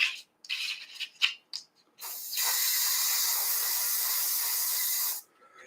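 A few light clicks and rattles of handling come first, then a steady, close hiss of spray as black primer is applied to the undercarriage covers of a 1:72 MiG-29 model kit, lasting about three seconds.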